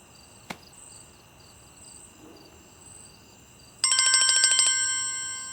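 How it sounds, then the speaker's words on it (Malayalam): A phone ringtone for an incoming call bursts in loud and bright, a rapid pulsing electronic melody that plays over a faint steady background hum after a brief click, with no talking. "ആരോ വിളിക്കുന്നുണ്ടല്ലോ"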